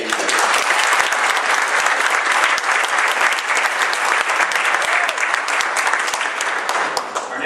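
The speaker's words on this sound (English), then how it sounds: "So another big round of applause for David Gabriel." A large audience at a comics industry awards presentation breaks into loud, sustained applause for a nominee, dense overlapping clapping that carries on steadily without a pause.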